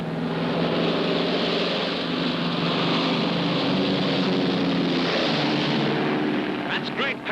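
Propeller airplane engine drones steadily in flight throughout, a continuous loud hum with voices talking over it near the end.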